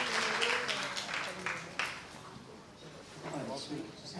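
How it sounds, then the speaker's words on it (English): An indoor crowd at a book launch claps in a dense, continuous round of applause. It comes across somewhat distant and faint, dies down partway through, then swells again while people talk over it. "Can we give them a round of applause"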